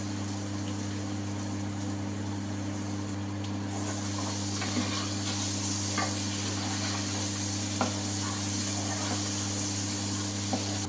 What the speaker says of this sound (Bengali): এখন আমি আলু ঢেলে দিচ্ছি।